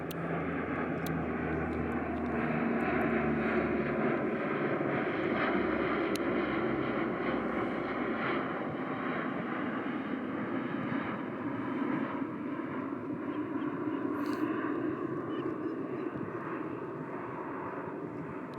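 An airplane passes overhead, its engine roar a broad, distant rumble that swells and slowly fades over nearly twenty seconds with no talking.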